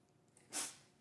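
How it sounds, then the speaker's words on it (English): A cat gives one short, sharp sneeze, a quick airy burst that stands out against an otherwise quiet indoor room. "bless you, Bubba, my cat keeps sneezing"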